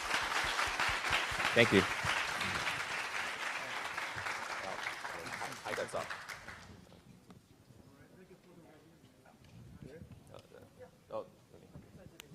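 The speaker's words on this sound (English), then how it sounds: "please give a round of applause to our wonderful speakers today" Audience applause for the speakers at a Taiwanese tech conference in North America, loud and sustained broadband clapping for about six seconds that then fades, followed by quieter talk and a brief thank-you.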